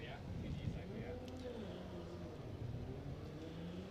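A Toyota 86 drift car, Kenshiro Gushi's on Falken tires, revs away from the start line at a Monroe qualifying event, its engine a faint, distant rising whine under a commentator's steady talk.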